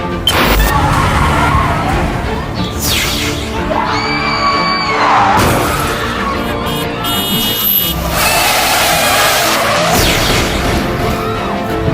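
A car skids under late, hard braking in a loud, chaotic scene, with tire noise and crashing sounds mixed among yelling and screaming voices throughout.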